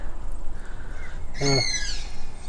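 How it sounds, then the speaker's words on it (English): An unidentified bird calls in the background outside a NextGen 23F caravan, giving one brief, moderately loud call over steady outdoor ambience. "I have no idea what sort of bird that is in the background"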